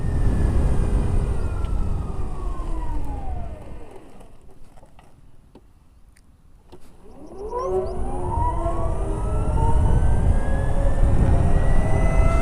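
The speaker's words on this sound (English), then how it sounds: "let's do a drag in warp mode" An Ather 450X electric scooter accelerates hard in warp mode: a rising electric motor whine with steady wind roar. The whine dips and quietens in the middle, then climbs again, loud and close.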